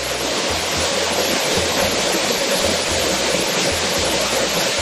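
A waterfall on Sapaesan mountain, Korea, rushes steadily, a loud, dense roar of falling water with no break and no voices.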